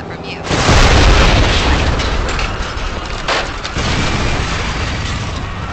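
Loud explosion in a video game cutscene, a heavy boom that swells within the first second and then holds as a dense, roaring rumble through the rest of the clip.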